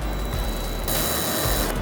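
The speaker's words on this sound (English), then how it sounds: "let's drill our final one over here" Power drill running against an aluminum front splitter on a 2020-2024 Chevrolet Corvette C8, a steady buzzing whir that surges louder midway and holds close and constant.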